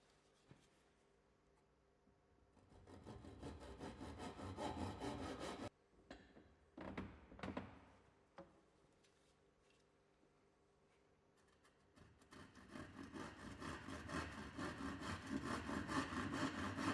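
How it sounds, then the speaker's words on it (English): Tenon saw cutting through a wooden skirting board: steady back-and-forth rasping strokes, close and clear, broken by a pause with a few knocks and scrapes before the sawing resumes louder. "Continue to use the tenon saw to make as many straight saw cuts as possible while rotating the skirting"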